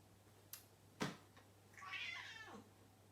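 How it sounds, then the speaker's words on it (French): A house cat meows indoors, a single drawn-out, wavering meow following a couple of soft knocks, quiet and close, with no talk over it. "Tu miaules en pleine vidéo."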